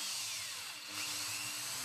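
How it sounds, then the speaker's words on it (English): A power drill with a 4mm bit bores holes in small toy car wheels, whining steadily and close for the whole stretch with a slight dip in pitch midway. "Drill holes in the wheels using a 4mm drill bit."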